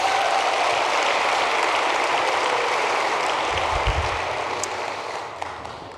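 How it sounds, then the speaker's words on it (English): A crowd at a Kiwanis International convention claps in a dense, sustained wave of applause that gradually fades toward the end, with no talking over it. "I would love it if you'd applaud for Jennifer Hethcox as well."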